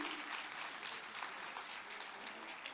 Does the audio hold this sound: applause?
yes